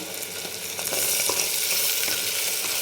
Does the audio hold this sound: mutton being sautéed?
yes